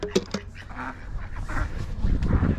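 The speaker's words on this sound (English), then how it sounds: "Hectic time at feeding time. There you go, ducks. There you go, turkey mama." Farm ducks and turkeys at feeding time give a few sharp quacks and honks early on, followed by quieter shuffling and low, busy activity close by.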